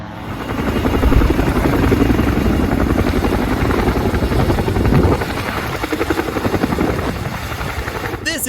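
A helicopter close by with a loud, steady thudding rotor and turbine roar that stays constant throughout, no voices.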